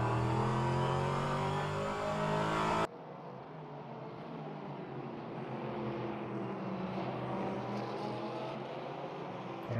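GT3 race cars, a pair of Corvettes with a Ferrari between them, drone through a sim racing game at Portland International, with a loud steady engine roar that drops abruptly to a quieter, rougher hum that carries on.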